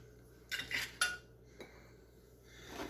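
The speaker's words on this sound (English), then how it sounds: "So we're going to lightly beaten the egg" An egg lightly beaten for corn fritters: a few quick metallic clinks of a utensil against a bowl, then one softer tap, faint and close over quiet kitchen hum.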